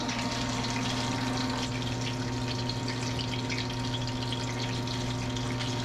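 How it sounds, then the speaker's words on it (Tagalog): Steady, dense sizzling and crackling of Shanghai spring rolls frying in hot oil, continuous and fairly loud throughout, with a low hum underneath and no talking. "Ito at nagpiprito na nga po tayo ng Shanghai natin"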